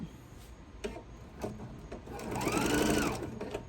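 A sewing machine stitches a quilted Noel tree skirt, starting with a few separate mechanical clicks and thumps, then a faint whirring run of rapid stitching toward the end.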